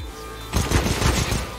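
Gunfire from the video game CS:GO during a pro match between Imperial and Cloud9, a burst of several sharp shots that starts abruptly after a quiet moment and stays loud and dense throughout.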